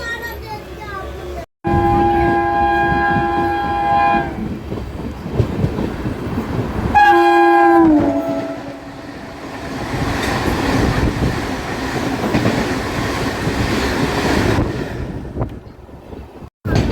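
Passenger train running between Patna and Gaya past Nadaul railway station, with a loud sustained horn blast, a second shorter horn, and steady rumbling wheel clatter and wind noise throughout.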